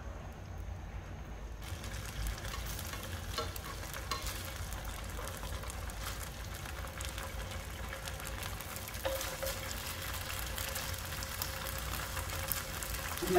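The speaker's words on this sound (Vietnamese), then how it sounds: "Rồi bây giờ mình sẽ chiên cái đậu hũ" Tofu sizzles steadily in a frying pan, a continuous bright crackle of hot oil that stays even throughout, with occasional faint stirring or shifting sounds and no talking.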